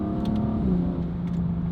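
Turbocharged BMW N55 inline-six breathing through a Valvetronic valved sport exhaust, a steady deep engine drone with a slight rise and settle in pitch, close and loud, no talking.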